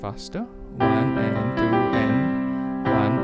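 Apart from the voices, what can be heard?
None of the usual background noises is heard.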